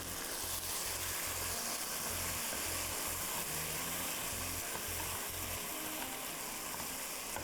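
Chicken sautés in a pan with salt and black pepper for a dry chilli chicken, a steady close sizzle and fry with soft stirring clatter running continuously, no voices.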